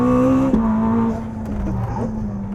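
The new Ferrari Testarossa, a rear-driven 820-horsepower hybrid, revs loudly out of a corner, a strong sustained engine note that steps up in pitch and then settles into a lower drone, close and alone.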